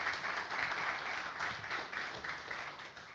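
Steady audience applause at a community meeting for a school board candidate, moderately loud and sustained, with no talking over it.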